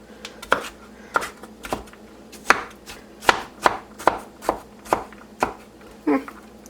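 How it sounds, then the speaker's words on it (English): Zucchini is chopped on a cutting board into tiny relish pieces, a steady series of crisp knife thunks repeating roughly every half second, close up and with no talking. "we're just going to keep cutting until I have 4 to 5 cups all cut up"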